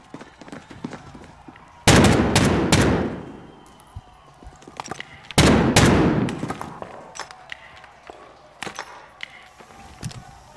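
Gunfire in a multiplayer shooter video game, two loud bursts of rapid shots with trailing echoes, surrounded by scattered faint pops and clicks, with no clear talk over it.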